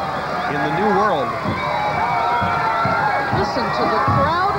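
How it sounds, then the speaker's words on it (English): A Mardi Gras parade crowd in New Orleans in 1985 roars and cheers wildly, a loud, continuous wall of mixed voices and shouts that never lets up. "Listen to the crowd here going wild."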